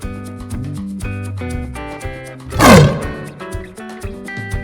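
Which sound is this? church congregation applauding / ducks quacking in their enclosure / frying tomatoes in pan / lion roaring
lion roaring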